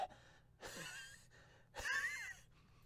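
A voice actor imitates a character panting and wheezing from exhaustion, a few close, breathy gasps and strained rasping exhales separated by brief pauses, with no words spoken.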